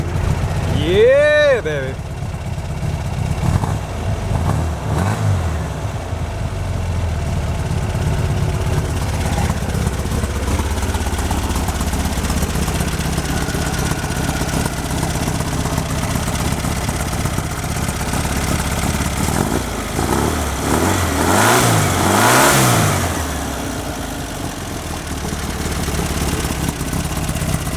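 An engine being cranked and brought to a rumbling idle, with a couple of revs rising and falling near the end, heard up close under a man's occasional speech.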